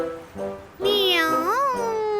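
A cat meows once, long and wavering, loud and close, after a brief quieter vocal sound.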